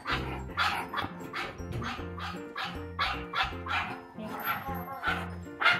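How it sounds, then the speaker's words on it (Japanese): A dog barks repeatedly during a nail-clipping session, a fast run of sharp, close barks and yips with little pause, as other dogs are around and a person speaks softly in between. "吠えてる"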